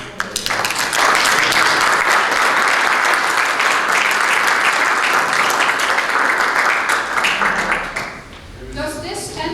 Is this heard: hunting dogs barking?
no